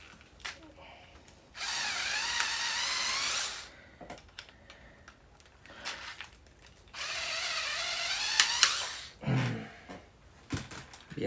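A power drill drives screws into a rechargeable RC shark toy, with two sustained whirring bursts of about two and a half and two seconds, separated by clicks, handling knocks and rustling nearby.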